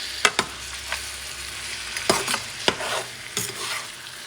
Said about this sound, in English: Just move them, mix this stuff up.